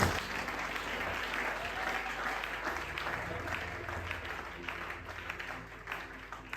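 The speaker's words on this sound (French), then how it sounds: "Acclamons pour le Seigneur." A church congregation applauds during a Sunday service, a dense, sustained wash of clapping filling the room, with voices faintly mixed in.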